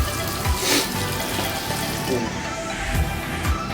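Water runs steadily from a tap into a sink for face washing, a continuous close splashing stream that fills the clip, with faint bumps and clatter from handling.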